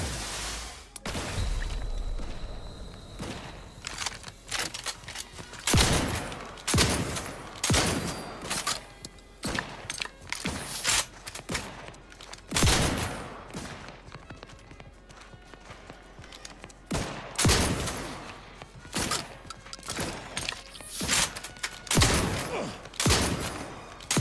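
Mortar fire in a multiplayer video game: heavy booming explosions land in repeated bursts every few seconds, loud and close, over a constant rumble of battle noise.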